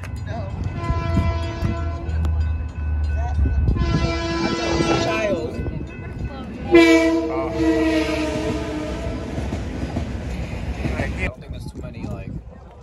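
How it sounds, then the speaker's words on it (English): A train rumbling past near a cars-and-coffee meet, with several long blasts of its horn, loud and close, and people talking over the passing noise. "What, the train?"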